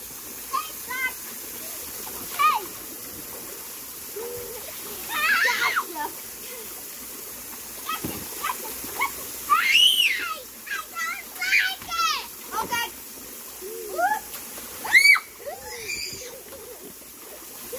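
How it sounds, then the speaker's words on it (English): Children splash water in a swimming pool, intermittent splashes and slaps over a steady watery wash, with kids' voices and adult talk throughout. "Okay, so now we're done splashing."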